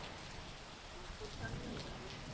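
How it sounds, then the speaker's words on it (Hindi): Heavy monsoon-style rain pours steadily outdoors, a dense even hiss of drops on surfaces with no breaks, fairly loud and continuous throughout. "ये भी बारिश इतनी सख्त हुई है ना"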